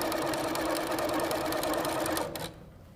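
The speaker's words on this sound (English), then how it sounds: "we're going to sew on both sides of the line." A sewing machine stitches half square triangles with a quick, steady motor whir and needle chatter, close and loud, then cuts off sharply, leaving a quiet room for the final half second.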